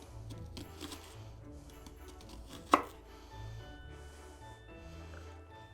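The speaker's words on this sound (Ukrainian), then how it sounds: "Далі нам треба підрізати наші цибульки тоненькими кільцями." A knife slices onions into thin rings on a board, with a quick run of close, crisp chopping taps and one sharper knock midway, fairly quiet and without talk.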